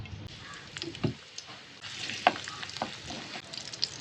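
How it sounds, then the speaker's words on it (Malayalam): Garlic dropped into hot oil in a heated pan, sizzling and frying steadily with a few stirring clatters, close and moderately loud. "ചട്ടി ചൂടായിട്ട് നമുക്ക് ഓയിൽ ഒഴിച്ചു കൊടുക്കാം അതിൻ്റെ കൂടെ നമുക്ക് വെളുത്തുള്ളി ഇട്ട് കൊടുക്കാം"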